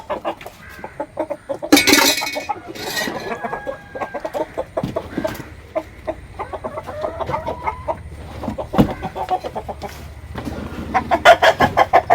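Native country chickens clucking in a coop, a busy, continuous chorus of close clucks and short calls, with a few louder bursts and rhythmic runs near the end.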